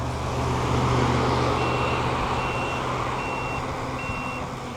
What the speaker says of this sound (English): you can hear them turn signals, or directionals you may call them